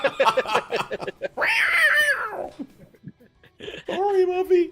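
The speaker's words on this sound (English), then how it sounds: "neighbor's cat" A neighbor's cat gives several drawn-out, wavering meows close by, with pauses between them and voices around the cries.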